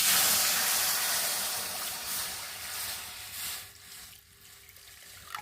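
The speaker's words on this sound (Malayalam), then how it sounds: "കുറച്ച് വെള്ളം ഒഴിച്ചു കൊടുക്കാം" Water splashes and gushes into a hot cooking pan after spices, a loud rushing pour that tapers off over a few seconds into a quieter hiss, with no one speaking.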